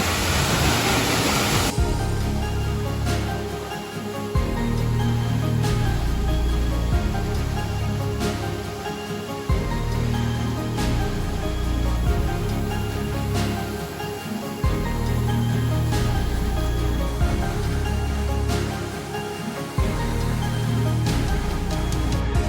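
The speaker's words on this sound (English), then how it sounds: "Get a little spray from the waterfall." A waterfall roars with spray at a state park, a loud broadband rush filling the whole stretch steadily, with wind buffeting the microphone and no talk over it.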